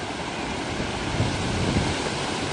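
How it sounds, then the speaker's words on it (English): Steady rush of surf washing over rocks, a continuous broadband wash with a couple of slightly louder surges, mixed with wind noise on the microphone. "Here comes the wave."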